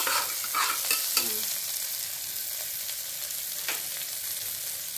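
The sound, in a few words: sautéing a chili pepper in oil for veg kurma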